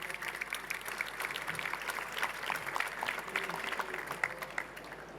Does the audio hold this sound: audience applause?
yes